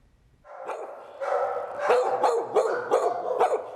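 A puppy recovering at an animal shelter gives a quick run of high, yappy barks close by, one after another with no voices over them.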